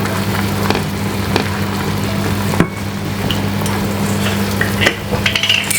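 Vegetable gravy mix bubbles and sizzles steadily as it cooks down in a pan alongside salmon, a continuous close frying hiss with a low hum beneath and a couple of faint clicks from the pan.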